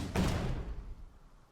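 An Alistar headbutt from the video game League of Legends: a single heavy impact thud with a swooshing burst, loud at the start and then fading out over about a second.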